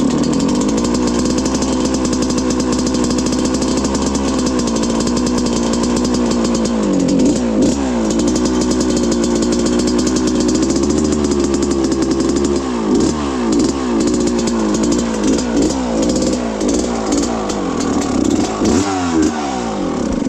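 A rebuilt 1995 Suzuki RM125 two-stroke motorcycle engine runs close by as it warms up, idling with a buzzy drone and then blipping the throttle in repeated sharp revs.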